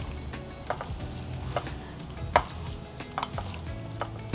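Spoon stirring dry spices into butter chicken sauce in a pot, producing a soft wet sizzle with irregular scraping clinks against the pot, close and moderately loud.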